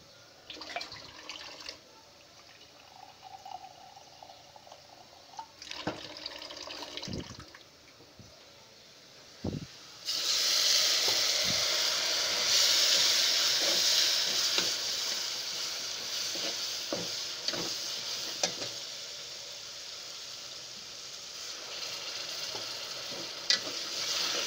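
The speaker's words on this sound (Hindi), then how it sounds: "हल्का सा पानी का छींटा मारेंगे।" A quiet stirring scrape, then water hits a hot pan of frying onions and spices and a loud sizzle bursts up, hissing steadily with occasional spoon clinks.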